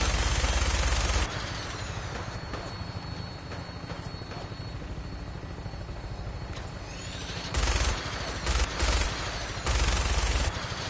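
Loud bursts of automatic gunfire from the Fallout 4 video game open the clip, then a steady droning hum follows. Further rapid volleys break through near the end.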